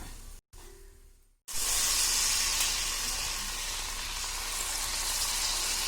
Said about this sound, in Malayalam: ഇനി നമുക്ക് ഇതുപോലെ തന്നെ ബാക്കി ചക്കപ്പഴം കൂടെ ഒന്ന് ഫ്രൈ ചെയ്തെടുക്കാം.